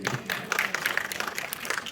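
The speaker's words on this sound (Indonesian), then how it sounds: "tepuk tangan buat Brija nih." Brief applause from a small audience at a community waste bank relaunch event, scattered hand claps sounding fairly close and lasting a couple of seconds.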